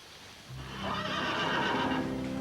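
A horse neighs loudly and close by, a drawn-out whinny that swells after a brief quieter start and holds strong to the end, with faint hoof clatter underneath.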